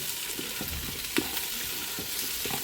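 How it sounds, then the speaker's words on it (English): Mushrooms stirred into frying onions in a pot for beef stew in a Ninja multi-cooker: gentle continuous sizzle with soft scraping turns and a single sharper clack of the utensil midway. "Just give those a quick turn in with the onions."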